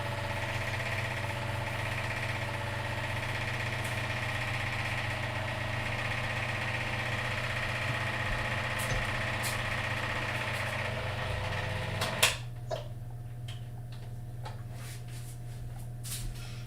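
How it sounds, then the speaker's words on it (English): A paint shaker rattles a full, tightly lidded bottle of paint in a steady droning buzz that suddenly cuts off, leaving a few small knocks and quiet room noise. "I'm about to put this thing on the shaker, and I'm hoping the lid doesn't fly off"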